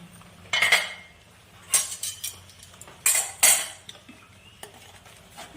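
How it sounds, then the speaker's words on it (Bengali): A metal lid is lifted off a pot of mung lentils boiling in water, giving several sharp clinks and clatters with quiet gaps between them, close and fairly loud with no talking. "এবার আমি ঢাকনাটা তুলে নিলাম।"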